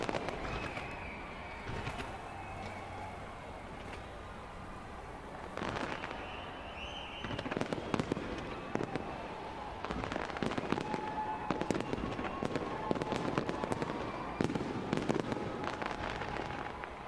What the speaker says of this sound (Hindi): शानदार आतिशबाजी के साथ आप देख सकते हैं किस तरह से वहां पर नए साल का जश्न मनाना शुरू हो चुका है।